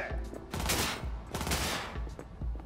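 Rapid automatic gunfire in the video game Cyberpunk 2077, bursts of repeated shots rattling loudly across the whole moment with no talk over them.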